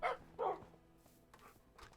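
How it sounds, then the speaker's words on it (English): A Minecraft dog barks twice in quick succession, then lighter yips and whimpers follow, fairly close with no speech over it. "Doggy!"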